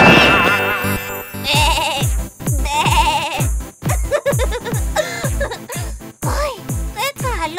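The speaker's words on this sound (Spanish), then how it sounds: "Minchi, contar ovejitas que saltan una valla es una buena forma de que te vaya entrando el sueño." Repeated sheep bleats, wavering and nasal, follow one another in quick succession, fairly close and loud.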